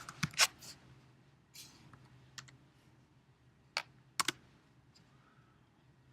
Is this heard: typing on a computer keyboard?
yes